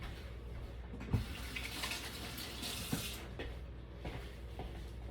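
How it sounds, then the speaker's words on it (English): Hands being rinsed under a running kitchen tap while making a skillet berry crisp, a steady close wash of water with a couple of small splashes and knocks. "And I'm gonna rinse my hands real quick."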